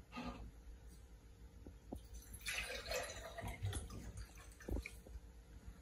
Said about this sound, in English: So we're gonna add our 950 milliliters of water.